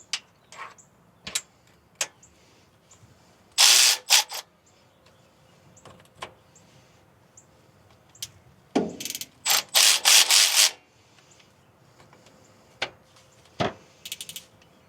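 A hand ratchet is backing out the differential cover bolts on a Jeep Gladiator's Dana 60 axle. Bursts of rapid clicking pawl come in several loud runs, split by quiet pauses and soft single ticks, close up with no talk.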